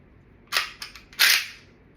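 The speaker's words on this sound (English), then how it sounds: "Place the bolt back in the bolt carrier group." A miniature AK47 bolt is dropped into its bolt carrier group during reassembly. Three close, sharp metallic clicks and clacks sound alone within about a second, and the last one is the loudest.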